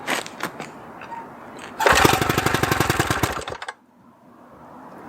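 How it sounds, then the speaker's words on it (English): A 50-year-old Johnson outboard motor, pull-started with the choke on, gives a few short pulls, then catches and chugs rapidly for about two seconds before dying out. "if I pull this over, I'm hoping it'll run. Let's see. Guess we'll give it some choke."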